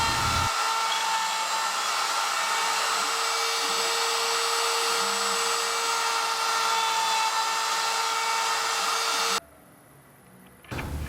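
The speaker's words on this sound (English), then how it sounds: "Both start out with a 1/4-inch spiral bit in the CNC machine, boring 3/8 diameter holes." A CNC router spins a 1/4-inch spiral bit, boring 3/8-inch holes in wood for small table legs; a loud, steady, high machine whine holds throughout, then cuts off abruptly near the end, leaving near-silence.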